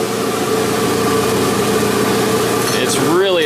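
An Abrasive Machine Tool Co. Model 3B surface grinder with a 3-horsepower spindle and a 12-inch by 1.5-inch wheel runs with a steady, close machine drone and hum. Near the end a voice rises briefly over the noise.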